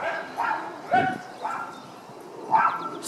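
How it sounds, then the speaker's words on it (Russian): Dogs bark and yip on a spring walk in a residential neighborhood in Murray, Utah, with about five short, sharp barks spaced irregularly at moderate distance. "Собаки."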